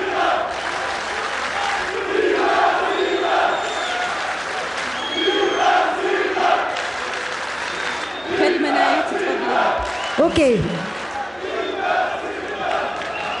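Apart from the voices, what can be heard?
studio audience cheering and shouting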